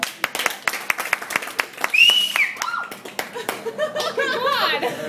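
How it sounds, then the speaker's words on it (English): A small audience gives sparse, uneven clapping, with individual sharp claps, then chuckles and a few voices talking and laughing as the clapping fades. "Give her a round of applause because she's nice."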